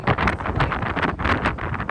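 Wind buffets the microphone by the ocean along a coastal hiking trail, a steady roaring gusty rush with pulsing surges, loud and close, with no voices.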